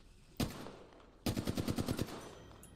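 A single loud shot from a video game weapon is followed by a quick rattling automatic burst of about ten rounds, then a fading tail.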